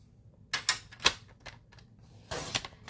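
A paper mat layer for a handmade card is cut on a paper trimmer, with a few close, crisp slicing strokes and clicks in quick bursts, no talking.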